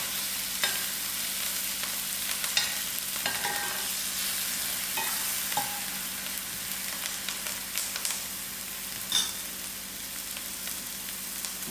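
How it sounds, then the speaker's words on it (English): A cinnamon stick fries with onions in hot oil while they are stirred, a steady close sizzle broken by occasional scrapes and light clicks of the utensil against the pan. "now I'll use my cinnamon stick and allow it to fry with the onions"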